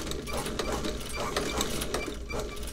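A sewing machine stitches leather on an Allen Edmonds Fifth Street boot during restoration, a fast steady mechanical clatter of needle strokes, close and moderately quiet, with no talking.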